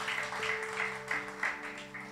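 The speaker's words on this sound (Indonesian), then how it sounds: "Beri tepuk tangan Maria buat Tuhan Yesus loh." A church congregation applauds during an Indonesian service, a soft, steady wash of clapping heard from some distance beneath sustained keyboard or organ tones.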